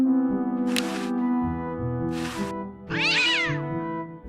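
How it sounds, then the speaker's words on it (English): A cartoon cat in the game Day of the Tentacle lets out three distinct meows, the last one longer and wavering, clear and close over a quiet tonal game background. "What a pretty pussycat."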